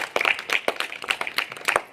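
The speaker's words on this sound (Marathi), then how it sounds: "टाळ्या वाजवा जोरात" Children clap loudly together in a Marathi village setting, a quick, uneven burst of many small hands that carries on for about two seconds with no voices over it.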